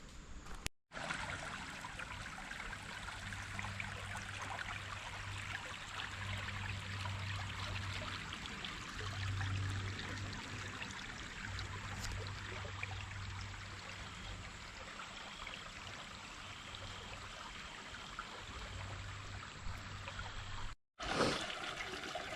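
Clear water trickles and flows steadily in a North Carolina stream, a broad continuous burble heard close by, with a low hum running beneath and no voices.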